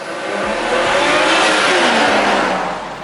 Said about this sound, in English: it sounds so good under acceleration